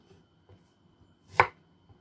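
Green beans being cut with a knife on a board, a few faint soft taps followed by one sharp, louder chop; quiet and close, no talking.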